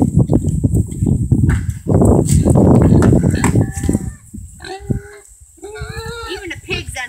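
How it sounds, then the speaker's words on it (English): Farmyard livestock noise with an agitated pig among other animals, grunting and squealing close by, plus fowl-like clucking and higher calls toward the end, with a person speaking briefly. "Even the pig's unhappy."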